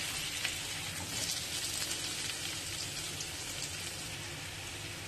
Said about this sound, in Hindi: हल्का हल्का हम इसको फ्राई कर लेंगे